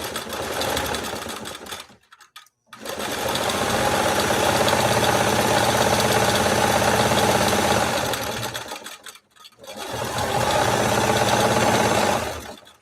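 A 1962 Singer 328K sewing machine runs in a steady, loud mechanical whir while stitching, stopping briefly twice before starting up again at full speed.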